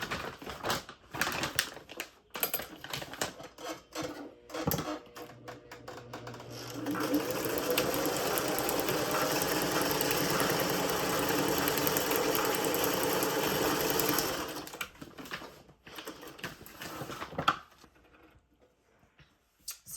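Sewing machine stitching through the layers of a feed bag tote, a steady continuous motor whir running for about seven seconds in the middle, with quieter handling and short bursts of stitching before and after.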